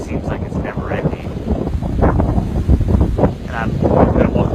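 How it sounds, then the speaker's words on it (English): Strong outdoor wind buffets the microphone with loud, continuous low rumbling and gusty roar that never lets up, and no clear voice rises above it. "try to find a spot that's not as windy"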